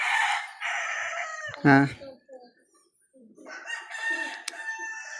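A rooster crows nearby in a loud, drawn-out call, with shorter clucks and fowl sounds around it and a person speaking briefly in between.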